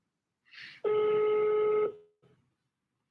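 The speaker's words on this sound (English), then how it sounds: "I'm going to try to call a few of these people really fast and see." An outgoing phone call during a commercial real estate cold calling session: a single steady electronic ring tone lasting about a second, preceded by a brief click and followed by quiet, heard clearly without talk.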